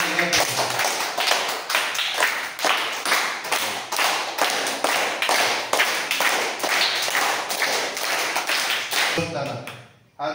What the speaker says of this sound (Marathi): त्याचं टाळ्या वाजवून स्वागत.